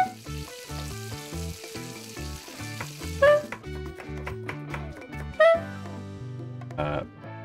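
Steak cooks in the video game PlateUp, a hissing sizzle under steady stepped background music, with the sizzle clearest early on and short chime-like cues scattered through.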